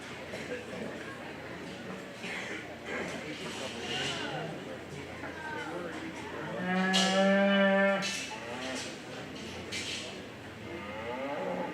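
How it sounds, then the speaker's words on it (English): Purebred Simmental breeding heifers at the Greene County Iowa Fair give one loud, drawn-out moo near the show ring, set against a busy background of crowd chatter and announcements. "Please start bringing your purebred Simmental breeding heifers to the ring."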